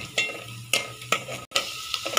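Cashews fry in hot ghee in a pan for vermicelli payasam while a spoon stirs them, giving a soft steady sizzle broken by a few rhythmic, close scraping strokes.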